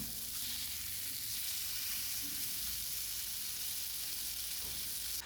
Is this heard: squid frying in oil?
yes